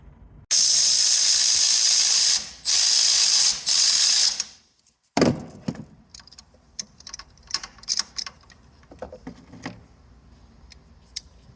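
Spark plugs are removed from a Polaris RZR engine. Loud bursts of hissing come first, then quick rounds of close, crisp ratchet clicks in short irregular runs.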